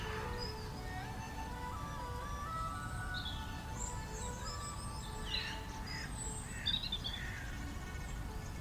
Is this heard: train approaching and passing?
no